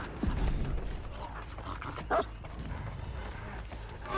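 A dog barks in Dead by Daylight, a few short yips and barks over low game ambience, one sharp bark standing out midway.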